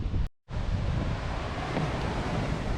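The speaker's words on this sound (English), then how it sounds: "It's mad the way the water's spraying up here." Sea waves crash and spray against a rocky stretch of Scotland's wild east coast in a continuous rushing wash, heavily buffeted by wind on the microphone, with one brief dropout near the start.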